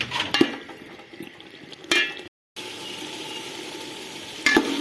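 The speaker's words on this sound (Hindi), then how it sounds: "आलू को 1-2 मिनट के लिए मसाले में भून लेंगे।" Potatoes fry in a spice masala in a pan, giving a close, steady sizzle, with a few loud clanks of utensils scraping and stirring and one brief silent gap.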